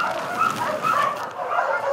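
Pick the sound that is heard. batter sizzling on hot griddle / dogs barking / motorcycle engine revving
dogs barking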